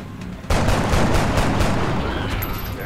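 Soldiers' gunfire in the video game XCOM Enemy Within erupts suddenly as a loud burst of rapid shots, continuing as a dense, rolling volley with several sharp reports standing out over the din.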